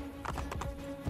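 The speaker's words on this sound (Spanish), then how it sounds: "¿Por qué lleva ahí un caballo?" Horse hooves clip-clopping in Assassin's Creed Brotherhood, a short quick run of four or five hoof taps over a steady game ambience.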